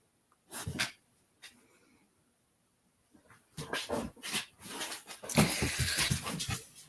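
A dog gives a sharp bark, goes quiet, then bursts into a run of excited barks, snorts and whimpers, close by and fairly loud.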